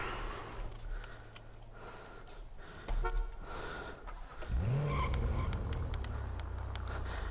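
A car driving in a GTA roleplay game, its engine rising from about three and a half seconds into a steady drone that runs to the end over a faint background bed, with no talk.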